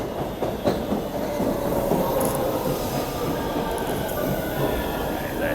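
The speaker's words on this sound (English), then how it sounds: "Here comes the train." A subway train pulls into a platform with loud rumbling wheels, rhythmic clicks over the rails and high squeals of braking, heavy and close throughout.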